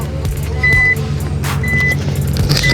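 Collision warning beeps from a Nissan GT-R R35, two sustained electronic tones sounding in sequence over a steady low engine and road drone inside the car.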